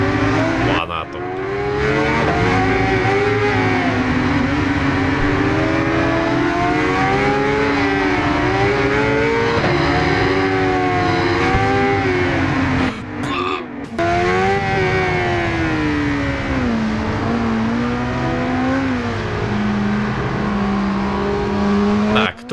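Motorcycle engines race in the video game Ride 5, a loud, continuous high-pitched whine that rises and falls with revs throughout, briefly dipping midway, with a possible voice mixed in.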